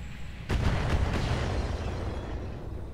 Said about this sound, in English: The mortar.